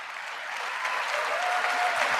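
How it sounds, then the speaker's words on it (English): During President Trump's 2026 State of the Union address, the audience breaks into steady, sustained applause from a large crowd, filling the hall evenly throughout. "Get 3 words out before you start clapping again"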